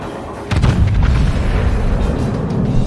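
Yamato battleship main guns firing in a naval video game, a heavy deep boom that bursts in suddenly and rolls on as a loud, sustained rumble.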